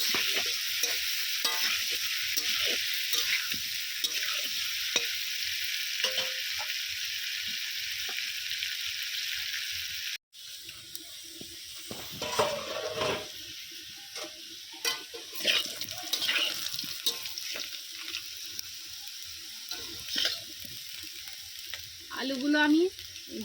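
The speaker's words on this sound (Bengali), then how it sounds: "আলুটাকে খুব ভালো করে লাল লাল করে ভেজে নেবো" Potatoes fry in oil in a pan with a hissing sizzle, broken by a short gap midway, then continuing with stirring scrapes and bubbling.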